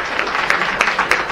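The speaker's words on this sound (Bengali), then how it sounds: "একবার নিজেদের জন্য জোরে হাততালি দিন" An audience applauds at a business training session, steady crowd clapping with a few sharper individual claps standing out at regular intervals, fairly close and sustained.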